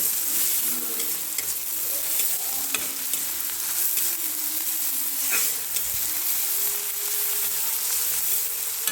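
Onions roasting in a hot pan for vermicelli upma give a steady broadband sizzle with occasional stirring scrapes throughout, close and moderately loud, with no talking.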